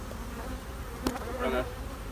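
A few bees buzz close around a beekeeper's hands from a calm colony, a faint steady drone with one sharper buzz passing near.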